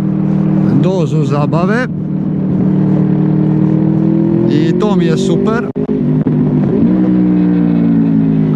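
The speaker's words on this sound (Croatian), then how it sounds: "Zanimljivo je kad se ovi Vetek otvori, stvarno to daje neku dodatnu" A 2012 Honda Crossrunner 800 motorcycle revs hard with its VTEC opening, two rising engine wails swelling over a steady riding drone, close by, with someone speaking over it.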